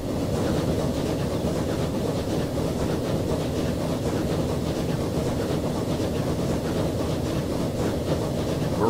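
A train in the Transport Fever 2 game rolls along at a steady pace, a continuous rumbling, clattering rail noise that stays loud and even throughout with no talk over it.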